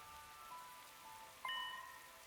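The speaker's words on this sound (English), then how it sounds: "This rain stuff is nothing but trouble." Steady rain falls in a video game scene, a soft, faint continuous patter with a brief light chime partway through, with no voices over it.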